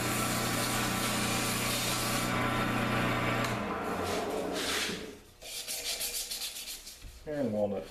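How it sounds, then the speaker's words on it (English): Walnut dart spinning on a lathe in a Jacob's chuck while being sanded, a steady broadband rubbing hiss for several seconds that drops away, then returns in rougher, uneven bursts. "and sand everything up."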